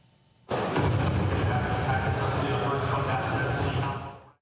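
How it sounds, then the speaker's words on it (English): Loud, sustained burst of rapid video game gunfire and explosions with a roaring crowd underneath, starting abruptly and running continuously before cutting off. "The gunfire was virtual, but the adrenaline very real"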